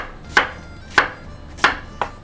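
A knife chops an onion on a cutting board: four crisp, evenly spaced thuds, close and clear, with quiet pauses between strikes.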